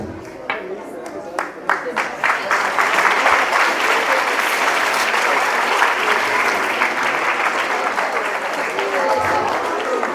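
A school award ceremony audience claps. It starts with a few scattered claps and then swells after a couple of seconds into loud, sustained applause that stays dense and even to the end.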